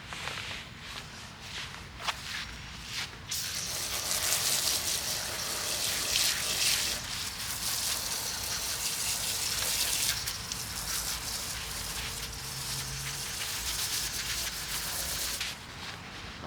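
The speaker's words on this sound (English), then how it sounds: "So I'm going to go ahead and start watering everything." Water pouring from a hose or can onto freshly planted garlic cloves in container soil, a steady loud gush that runs for most of the stretch and trails off at the end.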